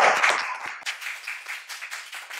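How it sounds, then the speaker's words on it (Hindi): Applause breaks out for a politician announced as defence minister at a rally, a dense burst of many hands clapping that tapers into scattered, uneven claps over a couple of seconds. "तालियां"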